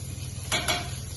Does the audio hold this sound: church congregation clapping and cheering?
no